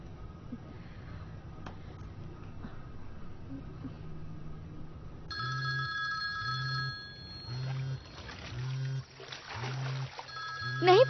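A telephone rings in a tense indoor scene: faint ringing at first, then a louder, regular ring that repeats in evenly spaced bursts, with quiet background noise and a voice near the end.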